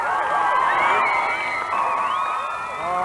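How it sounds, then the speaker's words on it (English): Thousands of spectators cheer and shout for the Adelaide Crows, back-to-back AFL premiers, at their 1998 street parade: a dense, loud, sustained roar of cheering and whoops from the crowd throughout. "the thousands who clamoured for a vantage point saved their wildest cheers for the back-to-back AFL premiers"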